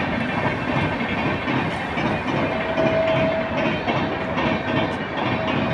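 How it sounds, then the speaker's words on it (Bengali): A Rajdhani express train passing near a house, a loud, continuous rumble with rhythmic clickety-clack of wheels over rails and a faint whine, heard close and steady for the whole stretch. "আর এই দেখো ট্রেন যাচ্ছে দেখতে পাচ্ছ ওই যে ট্রেন যাচ্ছে"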